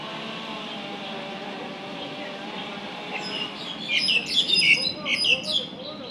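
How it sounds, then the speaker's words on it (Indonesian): Birds chirp in a park in Hong Kong, a cluster of bright, rapid calls rising in the second half over a steady background hum and faint voices. "Di Hong Kong banyak burung ini teman-teman."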